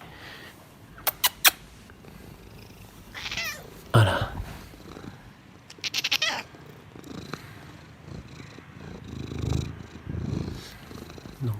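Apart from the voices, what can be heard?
cat meowing and purring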